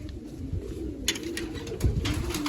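Pigeons sitting together give soft, low coos, close by, over a constant background hiss.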